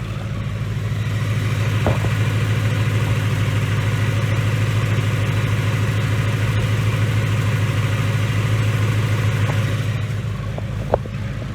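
A 2019 Ford Mustang with a Gen 3 Coyote V8 and Whipple Stage 2 supercharger idles in a steady, low, even rumble throughout, close and fairly quiet for a blown engine, with a faint click or two.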